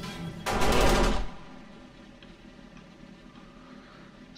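A game turret fires a short rapid burst lasting under a second, loud and close, followed by quieter ambient game noise.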